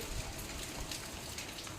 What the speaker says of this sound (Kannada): ಹೊರಗಡೆ ನೋಡಿ ಪಿರಿ ಪಿರಿ ಮಳೆ ಕೂಡ ಇದೆ